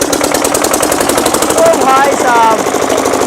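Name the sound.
modified diesel engine starting with loud sound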